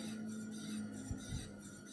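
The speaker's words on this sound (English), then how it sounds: "You are going to hear a little bit of scraping, but it's not nearly as bad as it was." Disc brake pads on a motorized bicycle rub faintly against a spinning wheel, a soft, steady scraping hiss with a couple of brief, slightly louder scrapes, no voices.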